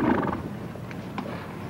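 A horse whinnies near the start, followed by a few scattered hoof clops and shuffling on hard ground.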